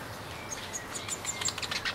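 A small bird gives faint, thin chirps, repeated several times at a steady pace and rising a little toward the end, over quiet room hiss.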